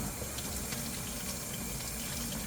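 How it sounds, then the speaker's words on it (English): Hot tap water runs through a positive crankcase ventilation valve from a 2019-2024 Nissan Sentra 2.0L, a loud, constant rushing gush with no pauses. "I'm going to run hot water through both ends of the valve"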